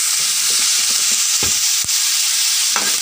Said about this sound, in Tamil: நல்ல வெங்காயம் ஃப்ரை ஆகட்டும்.